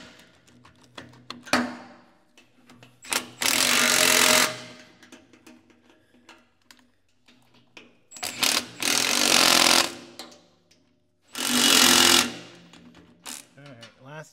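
On a Case 1840 skid steer, bolts on a newly installed hydrostatic drive motor are run in with three loud, harsh power-tool bursts of one to two seconds each. Quieter clinks and handling noises fill the gaps between them.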